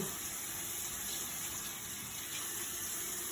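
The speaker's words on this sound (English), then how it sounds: "So I'm going to turn the water on" Steady broadband rush of water pouring from a tap, continuous and fairly close, with no voices.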